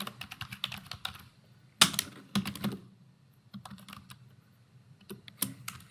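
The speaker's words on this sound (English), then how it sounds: "So let me type that." Keys clatter on a computer keyboard as data is entered into a database table, coming in quick bursts of close, crisp clicks separated by short pauses.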